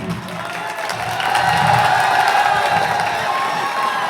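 A student audience at a college freshers' celebration in Dhamnod claps, cheers and whoops together, the crowd noise swelling louder after the first second and holding as a dense, lively roar.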